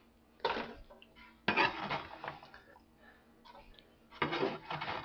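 Chopped celery sticks tipped into a pot for red beans and rice, a few knocks and scrapes of utensil against cookware with clattering pieces, close and moderately loud in a quiet kitchen.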